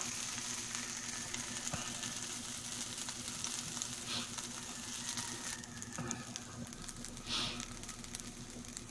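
Eggs fry in a pan at breakfast, giving a steady, even crackle and sizzle with faint spatter, heard alone with no talking.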